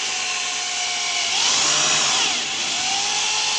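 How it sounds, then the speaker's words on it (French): An electric drill with variable speed control runs steadily at slow speed, a loud continuous whine that rises briefly in pitch midway before settling back, with no voices. "Vous vérifiez également que vous ayez une perceuse avec un variateur de vitesse"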